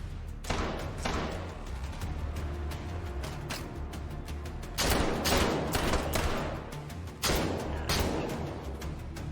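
Shotgun fire in a fast-paced video game, dense repeated blasts and thumps layered over busy game noise, with heavier bursts at intervals.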